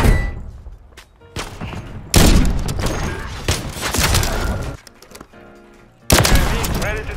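Sniper rifle shots ring out in a competitive video game match, loud sharp bursts breaking through at intervals amid busy game noise and rumble, with voices talking in between.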